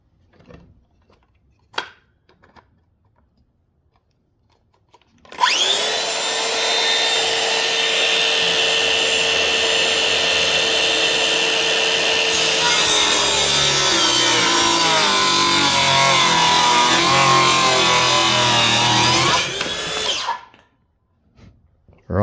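Power saw cutting a wooden framing board at a 45-degree bevel: the motor whines up abruptly, then a long steady cutting drone with the pitch shifting partway as the blade bites, before stopping; a few faint knocks come before it.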